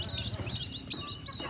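Newly hatched chicks, less than a day old, on a homestead giving soft, high cheeps and peeps over low background rumble, close by and fairly quiet.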